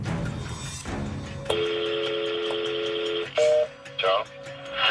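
A recorded phone call opens with a burst of telephone dialing tones and a steady held tone, followed by short beeps, with voices talking over parts of it.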